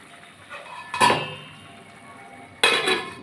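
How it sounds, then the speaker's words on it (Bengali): A lid set onto a cooking pot of potatoes simmering over a low gas flame, producing two distinct metallic clanks a second and a half apart against a quiet background. "এবার বন্ধুরা, আমি এটা চাপা দিয়ে দেবো"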